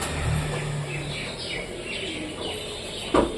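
Domestic pigeons in their coop give soft, low cooing calls with a few faint chirps, set against a steady background hiss. A brief rustle or flutter is heard near the end.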